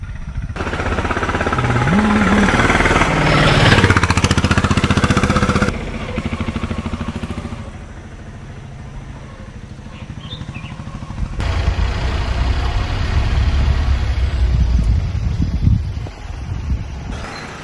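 A tractor passes close by carrying a woman's body after a wild elephant attack in Tamil Nadu, its loud, rough engine rumbling steadily with clattering, easing mid-way and then rising again.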